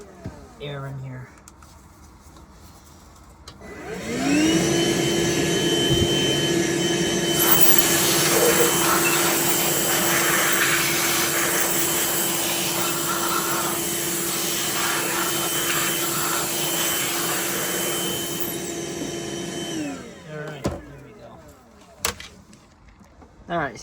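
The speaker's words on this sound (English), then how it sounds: "let's vacuum this out a little bit" A vacuum cleaner switches on and drones steadily with a high whine for about fifteen seconds while cleaning out a Shark vacuum unit during servicing, then cuts off, with light clatter before and after.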